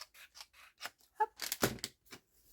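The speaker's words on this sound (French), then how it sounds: "Donc, je vais découper grossièrement." Scissors snip roughly through felt for a witch's hat, a quick series of close crisp cuts and rubbing blade sounds, uneven in rhythm, with one heavier chop in the middle and no talking.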